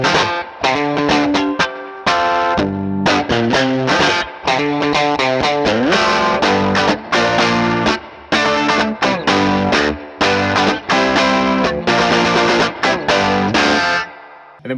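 Electric guitar played with every effect off except a touch of reverb, loud chords strummed in choppy bursts with short gaps between phrases, alone without any talk.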